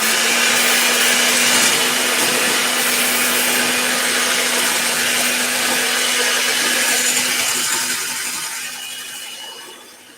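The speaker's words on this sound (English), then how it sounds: "And then we're going to turn the mixer on again." An electric mixer whirs steadily through strawberry cheesecake batter for about ten seconds, loud and close with a constant motor hum and a broad rushing noise, easing off at the end with no talking.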